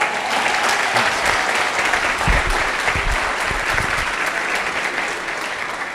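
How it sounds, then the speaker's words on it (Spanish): Crowd applause at a religious talk fills the room, a sustained, even wash of many hands clapping that holds steady for about six seconds. "Escucha este aplauso."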